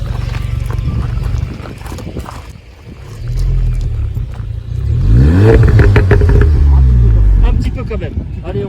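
A car fitted with an active sound exhaust revs loudly and close by, its engine note rising and falling in swells, while people talk over it.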